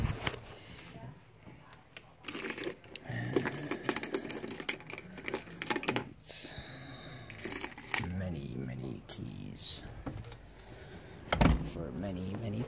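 Metallic jangling and clinking as car keys for a Volvo 940 are fetched, in short irregular bursts with knocks and handling noises, close by in a quiet room.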